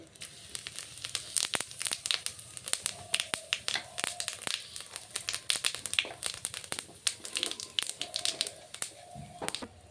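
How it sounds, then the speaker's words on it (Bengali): Bay leaf, dried chili and whole cumin hitting hot oil for a curry tempering, a dense run of sharp crackles and spits popping irregularly, close and steady, with no voices. "তরকারিতে ফোড়ন দিচ্ছি, তেজপাতা, একটা শুকনো লঙ্কা, কটা গোটা জিরে"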